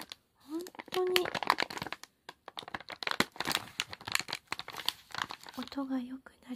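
KitKat dark matcha bar in a paper wrapper, crinkled and torn in close, dense bursts of rustling with a few brief pauses, while a voice speaks softly now and then.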